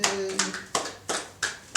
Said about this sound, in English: Round of applause for birthdays now.